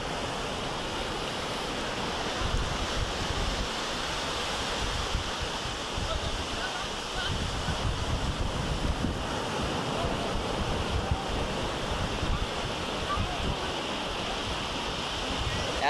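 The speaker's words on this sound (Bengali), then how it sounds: "যখনই ঢেউগুলো আসছে দেখুন একটা দুটো তিনটে চারটে এইভাবে একসাথে এসে দ্রাম লাগছে" Sea waves break continuously on the beach at New Digha, a loud, unbroken surf roar mixed with gusty wind rumbling on the microphone.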